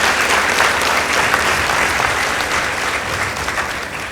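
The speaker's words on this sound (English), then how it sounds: "Let's clap for them." Steady applause from the audience at a school debate between Anestar Boys and Goshen Girls, greeting the winning team with a dense, even roar of clapping at constant loudness.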